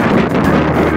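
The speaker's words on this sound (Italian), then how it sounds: "Prima, un po' di vento che si iniziava ad alzare" Wind buffets the microphone while cycling along the Salento coast toward Santa Maria di Leuca, a steady, close rushing roar lasting about a second with no voices.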